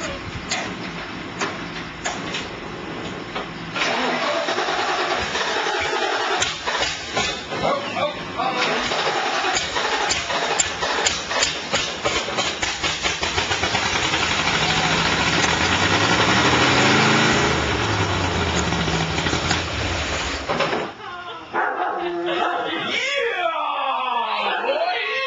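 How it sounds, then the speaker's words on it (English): An engine cranks at length, trying to start but not catching, a steady whirring, chugging drone that continues for around twenty seconds, with voices talking at the start and after it stops. "It's trying to start, but it's not starting."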